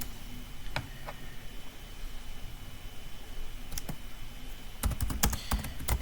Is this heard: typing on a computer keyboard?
yes